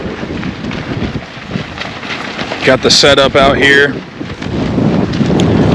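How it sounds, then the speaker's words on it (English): Wind buffets the microphone at an outdoor airport no-prep racing site, a steady rushing roar through the whole stretch, with someone talking over it in the middle. "Little windy, so I don't know how much you're actually gonna pick up in the mic."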